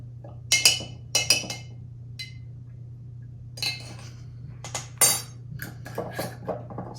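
A spoon stirs sherry in a glass, giving a few bright clinks against the sides in small irregular clusters over a low steady hum in a quiet room.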